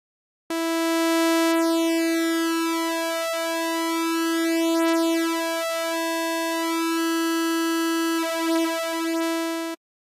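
Resampled saw wave synth patch in Xfer Serum, a single steady buzzing tone rich in harmonics, with faint sweeping phasing overtones and a brief shift near the end, heard alone for about nine seconds.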